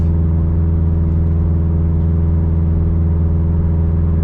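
A modified 2017 Subaru WRX STI engine, built to about 400 wheel horsepower, runs loud and close with a deep, steady droning tone, held at a constant pitch without voices.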